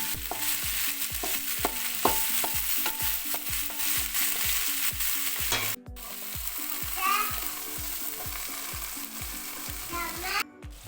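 Sliced beans for Kerala mezhukkupuratti cook in a pan over a low flame, with a steady run of rhythmic stirring clinks and scrapes and a soft sizzle, all beneath continuous background music.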